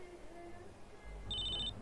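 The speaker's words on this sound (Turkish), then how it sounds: "Aa telefon çalıyor." Phone ringing in the GTA San Andreas video game, a short high electronic ring tone entering near the end over a low hum of game background noise.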